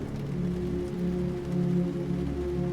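Rain falls steadily in the video game Heart of the Machine, a continuous soft hiss layered over low, sustained droning tones with no pauses.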